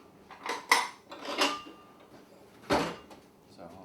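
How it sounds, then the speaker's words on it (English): A bowl grabbed and handled in a home kitchen while making sourdough bread, with several close ceramic knocks and clatters, one sharper clink early and a louder bump near the end. "So I'm just going to grab a bowl."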